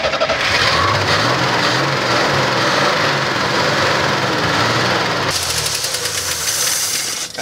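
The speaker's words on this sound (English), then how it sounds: "Ricardo, turn the key, buddy." A vehicle engine with a manual clutch and flat rear tires turns over and runs, with a loud, rough, rattling idle that stays steady throughout and shifts slightly in tone toward the end.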